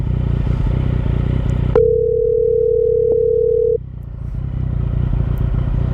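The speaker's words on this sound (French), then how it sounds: "vous allez entendre le téléphone qui sonne dans l'intercom" A flat electronic phone ringtone through a motorcycle intercom holds for about two seconds, cutting through the steady rumble of a running motorcycle engine, then the engine noise returns.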